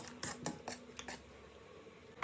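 Eggs being beaten into a batter in a bowl, heard as a run of quick clicking taps from a whisk or fork against the bowl, close and fairly quiet.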